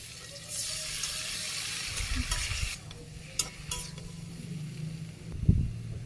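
Tomatoes go into a frying pan with mango pieces in a Bangladeshi village kitchen, bringing a bright, continuous sizzle with stirring scrapes and a few clinks of the utensil against the pan.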